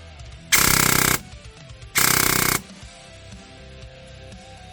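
A high rate-of-fire airsoft gun on its low setting fires two loud, rapid buzzing bursts, each lasting well under a second, separated by a short pause, close to the listener with quiet mechanical clicks in between.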